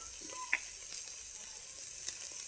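A soft, low sizzle comes from soybean frying in a pan with tomato and spices, with a few faint clicks of stirring. The cooking noise stays quiet and even throughout.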